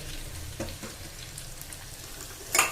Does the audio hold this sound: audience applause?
no